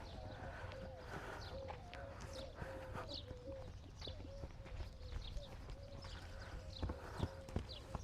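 Arabian endurance gelding's hooves walking and turning in a training session, a soft, irregular clip-clop on the ground at moderate distance, with faint birdsong and outdoor ambience around it.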